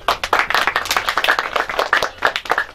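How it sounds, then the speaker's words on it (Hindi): An outdoor audience at a Pakistan Coursing Club award ceremony claps for a prize winner, with brisk, irregular applause from a modest crowd lasting almost three seconds. "ताली होनी चाहिए जी"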